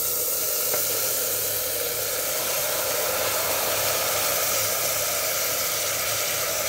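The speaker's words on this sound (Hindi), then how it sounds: "इसमें अब हम डाल रहे हैं मटन, देखिए खूब अच्छे से ब्राउन हो गया है प्याज" Mutton hitting a pan of well-browned onions: a loud, steady broadband sizzle and hiss that holds evenly throughout, close and unbroken, with no talk over it.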